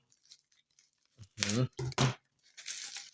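Toy packaging of paper and tape being torn open near the mic in a few loud ripping bursts, with faint rustling before and after and some speech nearby.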